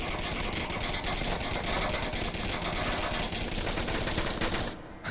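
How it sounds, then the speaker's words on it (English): Celebratory gunfire in the VR shooter Onward at a competitive match: a dense, continuous clatter of rapid automatic bursts and overlapping shots that keeps going at a fairly even level before cutting off abruptly. "A lot of celebratory gunfire,"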